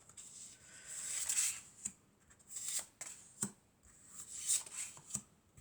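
Oracle cards shuffled and drawn during a French guidance reading: a series of close, crisp riffling and slapping bursts, each a second or so long, separated by short pauses, with no voice over them.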